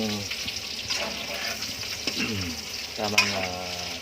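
Hubang bisaya is stirred in a pan, giving a steady soft sizzle and scraping. A person speaks over it throughout.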